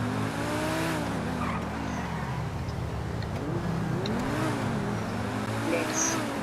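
A fast Mercedes in Grand Theft Auto races along a highway, its engine steadily revving up and down with whining gear shifts, while tires squeal and skid intermittently over continuous game road noise.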